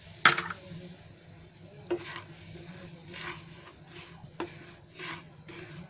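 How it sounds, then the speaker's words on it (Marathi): Semolina is dry-roasted in a kadhai and stirred with scraping, rubbing strokes that come every second or so, quiet and close, with a faint sizzle underneath and no talking. "आता मी रवा भाजून घेते."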